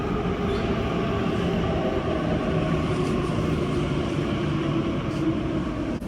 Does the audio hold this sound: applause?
no